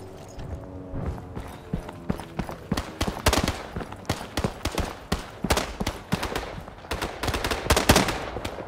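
Rapid bursts of gunfire in the WW2 shooter game Days of War crack repeatedly in irregular volleys, sharp and close, with scattered single shots between the louder strings.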